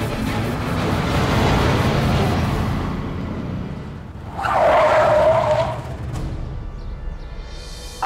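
A car skids in a busy market street, its tires squealing loudly for about a second amid a steady roar of traffic and engine noise.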